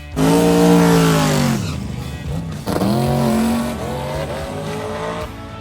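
Dodge Dart launching on a drag strip time trial pass, its engine roaring loudly through rising gear pulls, each shift dropping the pitch before climbing again as the car pulls away.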